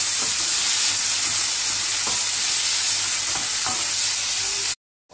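Onions and tomatoes sauté together in a hot pan with a steady, close sizzle and frying hiss, joined by a few faint stirring clicks before the sound cuts off abruptly.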